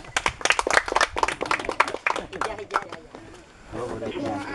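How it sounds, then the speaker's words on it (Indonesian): Schoolchildren at a remote elementary school clap their hands together in a quick, uneven burst of claps, fairly close, then the clapping fades and a voice begins talking near the end. "Tepuk tangan dulu"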